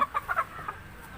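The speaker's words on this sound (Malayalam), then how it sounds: "ഇത് സിൽവർ ടൈപ്പിലുള്ള ഒരു കരിങ്കോഴിയാണ്." Silver-type black hens that are laying eggs cluck in a few short, close bursts, then go quieter with scattered softer clucks.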